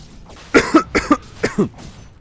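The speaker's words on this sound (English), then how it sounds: "Sorry about the coughing, it's gonna be happening." A series of sharp, harsh coughs in quick bursts, about six in all, close to the microphone with short pauses between them.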